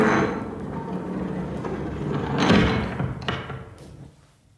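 In a radio drama, a heavy door marked with a radiation sign is opened, giving a long grinding, rumbling scrape that swells to a dull thud near the middle. Fainter clunks follow before the sound dies away.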